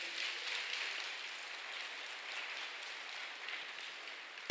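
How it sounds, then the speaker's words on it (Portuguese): Soft, steady applause from a congregation during a Catholic sermon in church, with a faint, even wash of clapping that cuts off in a sudden loud burst at the very end. "Pode aplaudir?"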